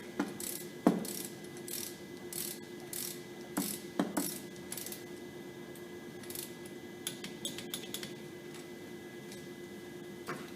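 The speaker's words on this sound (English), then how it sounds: "If you hear this ratchet, this torque wrench click" A torque wrench ratchets and clicks while tightening to 27 foot-pounds, giving sparse, faint ticks and a few sharper clicks over a steady mechanical hum, with no talking.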